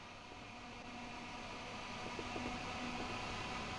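A locomotive running on the West Coast Main Line between Preston and Carlisle in Train Sim World 6 gives a faint, steady rumble with a soft tonal hum that swells slightly as it goes.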